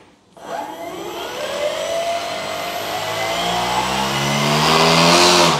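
Gas engine of an FMS Piper J-3 Cub RC plane with a 1.4 m wingspan starts and throttles up, a loud close whining drone whose pitch climbs steadily to a peak, with no talking.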